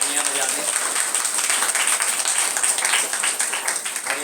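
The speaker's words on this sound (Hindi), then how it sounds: "जोरदार तालियां बजा दें।" A crowd at a Hindi Ramayan katha, a religious storytelling gathering, claps steadily for the full length, with dense and even applause and no clear speech over it.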